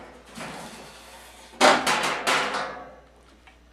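Plastic casing being pulled off a Kenmore window air conditioner, a series of close scraping, creaking and clattering bursts, the loudest in the middle, alone without talk.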